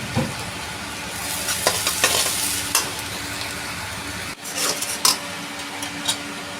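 Onion and green chili hit hot mustard oil in a pan, giving a loud, steady sizzle with scraping stir strokes and a few sharp clinks, close up with no talking.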